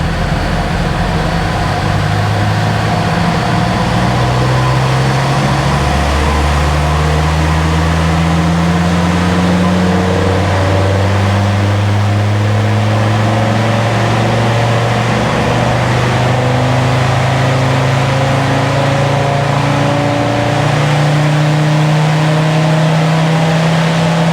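A tuned Land Rover Defender Td5 90 diesel with a Falcon hybrid turbo runs on a dyno, its engine loud and close, climbing through the gears in repeated rising drones with no talk.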